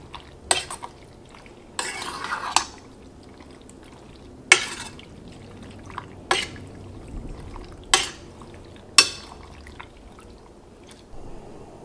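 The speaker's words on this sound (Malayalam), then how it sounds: "ഇതെല്ലാം കൂടിയിട്ട് നന്നായിട്ടൊന്ന് മിക്സ് ചെയ്യുക" A spoon scrapes and clinks against a metal pot while mixing squid with kudampuli in several separate bursts, with quiet gaps and a low background hum between the stirs.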